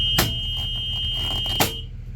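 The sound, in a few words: school bus emergency exit window buzzer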